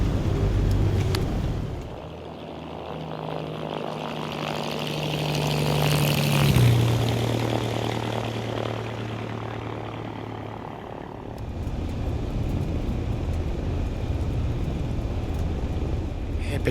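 Simulated Beechcraft Bonanza propeller plane in X-Plane 12 taxiing after landing, a steady engine and propeller drone that shifts in pitch midway and then settles, continuous and moderately loud, with some speech mixed in.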